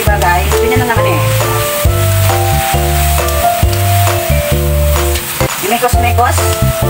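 Brown mushrooms sizzle loudly in a hot pan as they are stir-fried with egg noodles, shrimp and sliced bacon, with a steady close frying hiss, stirring scrapes, and music playing throughout.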